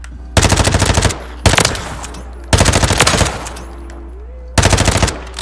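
Automatic gunfire rattles in Call of Duty: Modern Warfare 3, loud close bursts of rapid shots repeating four times with short pauses between them.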